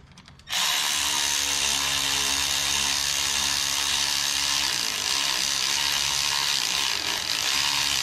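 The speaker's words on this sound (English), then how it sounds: "Turn the ratchet the right direction, will help." A ratchet wrench works on a 12 valve Cummins engine: after a brief quiet moment it bursts into a loud, continuous mechanical whir that runs unbroken to the end.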